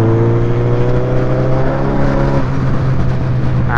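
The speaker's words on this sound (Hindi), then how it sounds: "बहुत ही खूबसूरत बाइक लग रही है, योशीमुरा का एग्जॉस्ट लगा हुआ है बाइक में" A Suzuki GSX-R 1000 RR sportbike fitted with a Yoshimura exhaust revs steadily nearby, its loud engine drone holding a pitch, then shifting lower partway through, rough and throaty with no voices.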